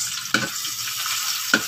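Onion sizzles in a hot pan for adobong sayote, a steady bright frying hiss broken by two sharp clanks of a utensil against the pan, with no talking.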